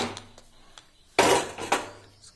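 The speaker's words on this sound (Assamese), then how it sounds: "আমি কুকাৰত ঢাকনা লগাই দিম" A metal lid clanks onto a pressure cooker holding mutton pickle: two sharp, close clatters of metal, the first louder, then a faint ring.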